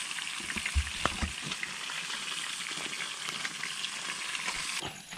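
Fish grilling over a smoky open fire after a handline fishing trip gives off a steady, close crackling sizzle with a few sharp pops near the start and a brief shift at the end.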